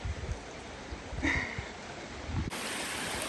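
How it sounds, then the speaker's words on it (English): A strong river rushes steadily nearby, a continuous broadband roar of flowing water that turns brighter and hissier partway through. No one speaks. "I could hear a pretty strong river, stream, whatever you want to call it."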